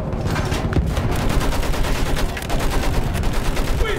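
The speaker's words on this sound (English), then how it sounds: "Use that machine gun! Mow them down!" Sustained machine gun fire in Battlefield 1, a dense loud rattle of rapid shots running throughout amid battlefield noise, with no talking.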